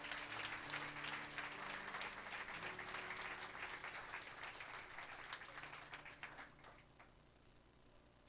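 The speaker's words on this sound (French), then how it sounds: "Est-ce qu'on peut acclamer Jésus comme ça?" A church congregation claps to acclaim Jesus, sustained dense applause from a large crowd that is loud at first and slowly tapers, with soft organ or keyboard chords underneath.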